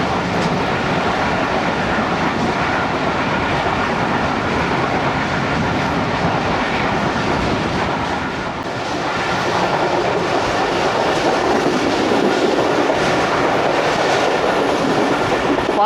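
Karakoram Express running on rails between Lahore and Khanewal, a loud, continuous rumble with steady clickety-clack wheel beats over the joints, briefly dipping midway before resuming, no voices.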